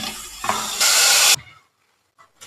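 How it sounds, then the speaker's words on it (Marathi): Rice and urad dal being washed together in water, with a burst of sloshing, hissing water noise that stops abruptly, followed by near silence and a couple of faint knocks. "आता हे डाळ आणि तांदूळ एकत्र धुवून घेऊ"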